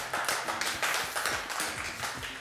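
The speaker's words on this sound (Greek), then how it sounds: "Χειροκρότημα." Applause in a Greek home-cooking show studio, steady patter of clapping with light taps, moderately loud and continuous for a couple of seconds, no talking over it.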